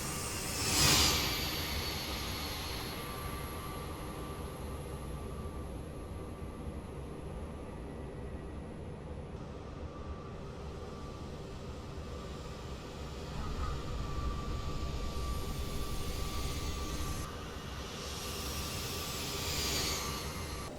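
Jet engine roar of a CRJ 550 regional jet on landing rollout with thrust reversers deployed in Microsoft Flight Simulator, a steady loud broadband rush that swells again midway, with no talking.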